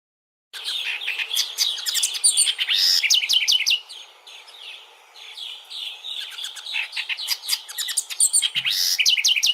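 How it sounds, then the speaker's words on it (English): A small songbird sings an exuberant, loud song of rapid, varied chirps and trills, delivered in dense bursts with a short pause, close and alone. "It really has this kind of like, a lot of volume and a lot of excitement for a really small bird."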